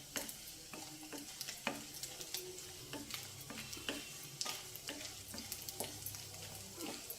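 Dried prawns fry in a pan with a soft sizzle, broken by frequent sharp clicks and scrapes of stirring, quiet and close, with no speech.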